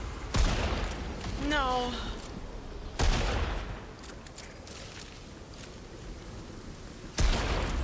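Sharp gunshot bursts from shooting at about half a second, three seconds and seven seconds, loud and close, with a voice speaking in between.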